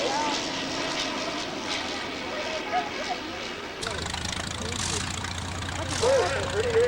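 A vintage aircraft engine at Old Rhinebeck Aerodrome drones steadily at a distance, rough and throaty, with people talking nearby over it.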